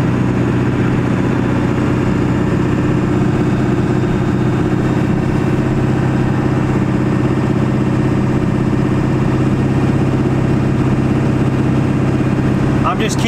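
Dually pickup truck engine held at high RPM, around 2,000, while climbing a steep grade, a loud steady drone with constant low hum throughout, someone talking over it.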